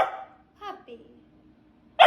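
A puppy gives a few short, high yips and barks, with a brief whimpering sound between them, close and fairly loud against an otherwise quiet room.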